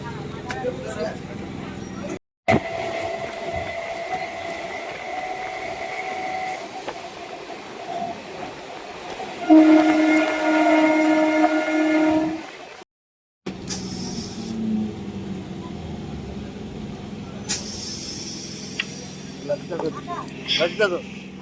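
A train rolls into a station on a hot day, with a rumbling hum, steady tonal whine and brief brake-like squeals over several seconds, punctuated by abrupt cuts and ambient platform noise.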